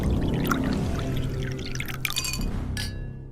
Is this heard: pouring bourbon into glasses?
yes